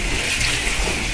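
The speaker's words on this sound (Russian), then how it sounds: "Мы его просто промываем вот такой вот горяченькой водичкой" Hot tap water pours steadily from a kitchen faucet over raw meat being rinsed, a continuous close splashing hiss lasting about a second.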